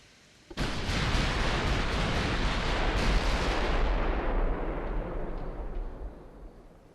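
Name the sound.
warship guns firing in video game Ultimate Admiral: Dreadnoughts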